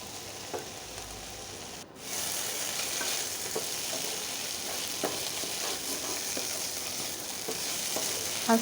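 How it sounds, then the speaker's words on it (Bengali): Malabar spinach (pui shak) frying in a pan, a steady sizzle with small stirring clicks and scrapes throughout, loud and close with no talking. "আস্তে আস্তে করে কিন্তু ভাজি হয়ে যাচ্ছে"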